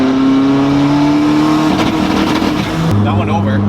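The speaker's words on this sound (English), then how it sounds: "That turbo spool's good too." A turbocharged Honda Civic EG engine pulls hard, loud and close, its tone rising steadily before stepping down at gear changes, with a whistling turbo spool layered over the engine roar.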